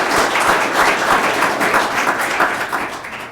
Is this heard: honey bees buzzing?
no